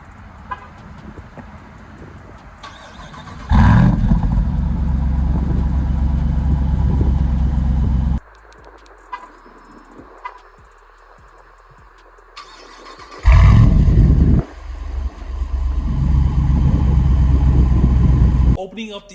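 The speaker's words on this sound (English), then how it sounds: "you can't miss the quad exhaust system. This thing sounds amazing." A 2023 Jeep Wrangler 392 with a quad exhaust barks into loud, deep revs in two bursts, separated by quieter idle stretches.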